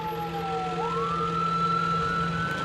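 Ambulance siren wailing on an emergency run to the hospital, a loud sweeping tone that glides upward and holds, heard clearly over a steady background rumble.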